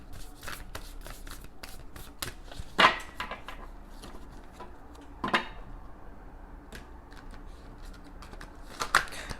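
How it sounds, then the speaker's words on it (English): Oracle cards being shuffled by hand: quiet, rapid papery flicks and riffles in a steady stream, with a few louder slaps of the deck, close by and without any talking. "gonna shuffle them a bit first."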